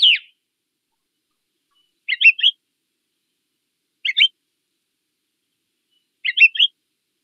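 A winter bird found in coniferous forests gives four short, high, sharp calls, each a quick double note, separated by about two seconds of silence.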